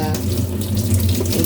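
Kitchen tap running hot water over fish being washed: a steady, close, continuous gush of water splashing into a sink, alone without speech.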